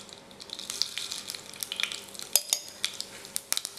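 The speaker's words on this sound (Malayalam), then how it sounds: "കടുകിവിടെ പൊട്ടി വന്നിട്ടുണ്ട്." Mustard seeds popping in hot oil in a frying pan, a steady sizzle punctuated by sharp, irregular pops and crackles, close and fairly quiet, with no voices.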